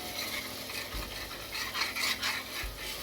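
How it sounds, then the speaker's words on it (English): Onions stirred as they fry in a covered pot for a yoghurt curry, giving a steady soft scraping and sizzling with a couple of low spoon knocks against the pot, close by and alone. "So just checking on the onions. Give it a stir."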